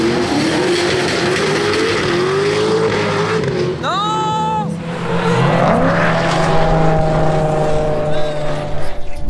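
A Toyota Supra drift car at a French drift championship, its loud engine droning and revving unevenly, briefly stuttering and cutting out before picking back up, close and dominant with voices mixed in.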